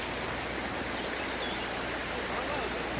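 Water flows steadily all around on the road from Valparai to the Athirappilly waterfalls, a close, even rushing wash that holds constant from start to finish.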